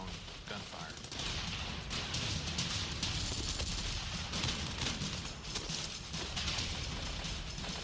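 Dense, continuous gunfire in an Afghanistan battle against Al-Qaeda fighters, overlapping bursts and cracks under steady broadband noise, loud and sustained throughout, with some voices mixed in.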